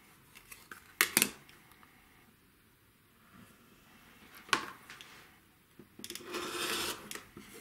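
Scissors cut a small piece off quilt fabric, a couple of quiet close snips followed later by a soft rasping slide of the blades through cloth, with no talking.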